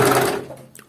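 An overlock sewing machine runs a quick stitching burst, a loud, dense mechanical whir that fades out within a second, close up and without talk.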